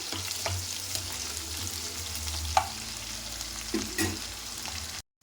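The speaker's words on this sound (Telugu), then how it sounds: "ఆనియన్, పచ్చిమిర్చి కాస్త ఫ్రై చేసుకుందాం వాటిని." Onions and green chillies fry in a pan with a steady hiss, and a few clearer knocks and scrapes come through near the end before the sound cuts off.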